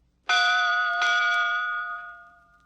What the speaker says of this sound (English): You will know it is time to turn the page when you hear Scuffy's bell ring, like this.